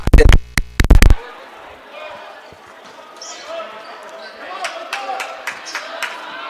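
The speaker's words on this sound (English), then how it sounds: "the Grenadier crowd is back into it" Crowd noise fills a gym at an IU Southeast men's college basketball game against St. Mary-of-the-Woods, with loud bursts at the start and scattered claps and cheers near the end, under a commentator's steady talk.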